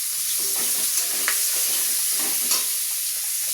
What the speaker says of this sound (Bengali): পেঁয়াজ ভাজা হচ্ছে এটা আবার।